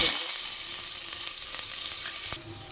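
Onions fry in a pan for vegetable biryani: a loud, continuous hissing sizzle close up, easing slightly toward the end, with no talk.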